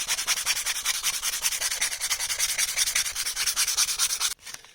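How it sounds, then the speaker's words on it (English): Steady rhythmic rasp of sandpaper rubbed by hand over a wooden butter knife, close and even strokes repeating quickly for several seconds before stopping abruptly. "We can start using the sandpaper."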